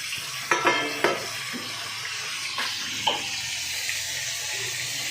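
Lightly fried fish cooks in a pan with tomato, onion and green chili. A constant hiss of frying runs under a few close clinks and stirring knocks, with a splashy, watery edge.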